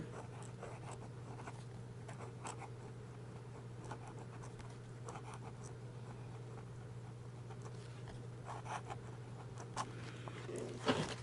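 A fountain pen scratches across ordinary notebook paper in quiet, irregular strokes, close up, over a steady low electrical hum, with no talking.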